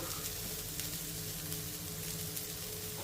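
Curry leaves hit hot oil among frying onions in a pan, giving a steady, close, crackling sizzle with broadband spatter that holds evenly throughout, no voices.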